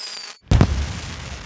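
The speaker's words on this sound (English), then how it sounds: "What a lovely firework display." A cartoon fireworks display from Peppa Pig at a Chinese New Year celebration: after a brief silence, a loud close burst booms out, followed by a sustained crackling rumble that fades only slightly.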